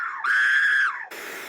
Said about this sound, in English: Stop screaming! Stop!